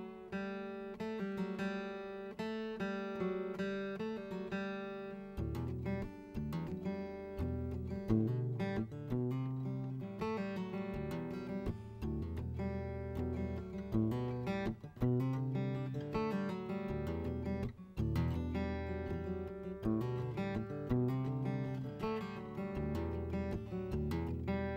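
A plucked acoustic guitar plays the picked intro to a song, notes ringing and linking smoothly with a pull-off, repeating several times without voices.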